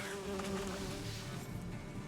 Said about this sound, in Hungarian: De hangosak a legyek.